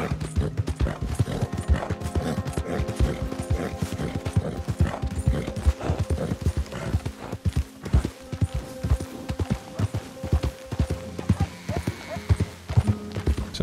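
Horse hooves clip-clop steadily in Red Dead Redemption 2, several horses trotting close and loud in a continuous rhythm, with an occasional whinny and someone talking over them.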